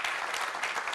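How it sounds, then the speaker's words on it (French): Steady applause from an audience at a French regional green-savings event, a dense even patter of many hands without pause, fairly faint and distant. "On peut vous applaudir à distance."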